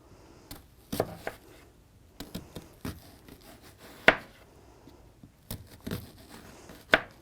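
A kitchen knife slices lengthwise into food on a cutting board for a tuna and black bean wrap: a few sharp, quiet taps and soft scrapes spaced irregularly, close by, with no talking.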